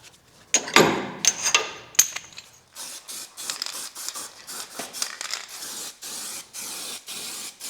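Spray paint hisses onto tractor parts of a Deutz 6006 in short, regular bursts, close and distinct, after a few initial crinkling and handling sounds.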